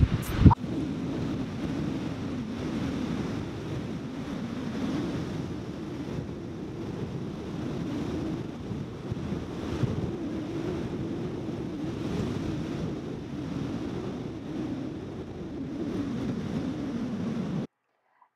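Ocean waves wash onto a beach in a steady rolling roar, heavily mixed with gusty wind buffeting the microphone, continuous and moderately loud throughout before cutting off abruptly.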